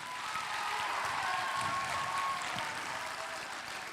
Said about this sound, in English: Give Namo a round of applause again.